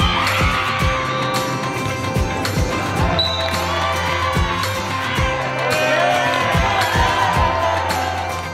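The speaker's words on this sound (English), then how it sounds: "Give yourself a round of applause." A gym crowd at a middle school cross country event cheers and shouts, with rhythmic thumps like bouncing or stomping running throughout the loud, steady din.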